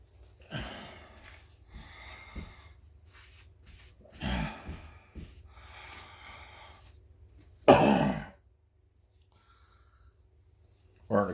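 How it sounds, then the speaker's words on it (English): Dry, hoarse coughing from a person working on an O scale model train layout, a short burst near the microphone that stands out against quiet room tone after spells of talking. "Starting to cough. It's been pretty dry"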